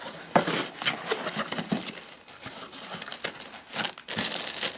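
Packaging for a Cideko Air wireless keyboard being opened, with loud close crinkling and tearing of wrapping in bursts throughout, no voice present.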